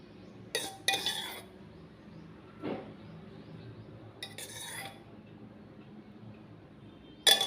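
Mushrooms being stirred together with curd, fenugreek and spices in a bowl, heard as a few sharp spoon-on-bowl clinks and scrapes spaced apart over a quiet background.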